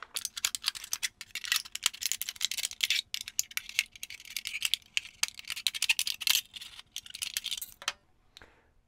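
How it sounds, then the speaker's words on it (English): Sharp, rapid snips and crinkly metallic clicks repeat for several seconds as regular scissors cut a strip of thin soda-can aluminum, ending in a brief quiet rustle. "you can cut them just with regular scissors. So let's cut a strip out of the soda can."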